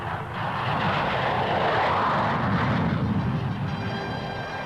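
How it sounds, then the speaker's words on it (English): Fighter aircraft fly a demonstration over a Formosan airfield, their engine roar a loud, broad, continuous rush that holds steady throughout. "Generalissimo and Madame Chiang Kai-shek watch a demonstration of the fighters' capabilities on their delivery to a Formosan airfield."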